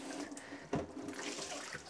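Running water pours steadily while dyed cotton yarn soaks in rinse water, a continuous close splashing with one brief louder gush partway through and no talk.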